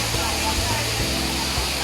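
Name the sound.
Kanto Lampo waterfall in Bali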